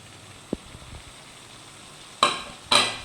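Tomato and ginger-garlic paste are stirred in a frying pan: a faint sizzle runs underneath, with a small tap early on and two loud scraping stirs near the end.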